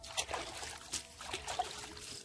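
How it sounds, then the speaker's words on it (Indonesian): Water splashed by hand onto newly planted Setaria grass, a faint, uneven trickle with a few soft splashes, heard alone. "Sudah itu kita siram air."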